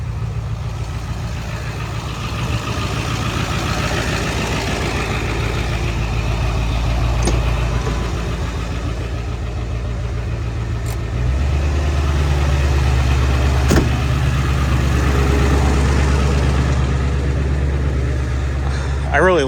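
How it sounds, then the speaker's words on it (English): A diesel truck engine held at high idle at a farm auction inspection in Baldwin, Iowa: a loud, steady low rumble close by that steps up to a heavier drone partway through, with a brief click or two. "I'll go bump my truck in high idle"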